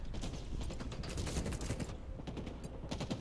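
Machine gun fire in Halo Infinite ripples in rapid bursts, loud and close, a dense stream of shots that briefly thins before resuming with no talking over it.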